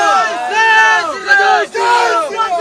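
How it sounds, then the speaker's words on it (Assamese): Political supporters at a campaign rally raise a loud, continuous massed chant of slogans, many voices shouting together in rising and falling waves close at hand. "সমৰ্থকসকলে উল্লাস কৰি আছে প্ৰচাৰো চলি আছে গতিকে স্বাভাৱিক সকলোৱে শ্লোগান দি আছে"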